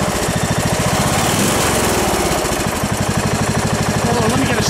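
A Troy-Bilt lawn tractor with a 17.5 HP Briggs and Stratton engine runs loud and close after a cold start, its steady rapid chugging and exhaust pulses unbroken throughout, with voices faintly beneath.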